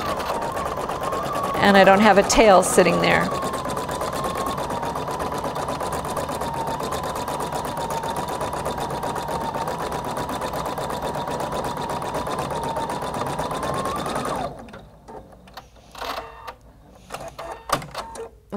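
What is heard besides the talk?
Husqvarna Viking Designer Brilliance 80 embroidery machine stitching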